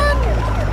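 A short burst of a wailing siren, loud and near, sweeping in pitch over a heavy rumbling engine-like background.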